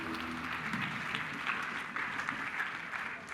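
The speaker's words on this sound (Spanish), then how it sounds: "un aplauso, por favor." Audience applause welcoming a guest at a Mexican technology talk, a continuous even patter of clapping held at moderate loudness for several seconds.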